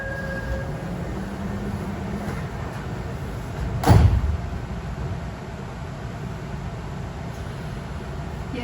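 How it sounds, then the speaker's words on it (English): An airport shuttle train at Seoul Incheon rumbles steadily, and its doors shut with one sharp thump midway before the low running noise carries on. "ドアが閉まります。"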